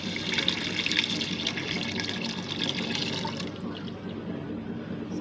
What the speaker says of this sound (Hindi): अब हम इसमें दूध डाल देंगे।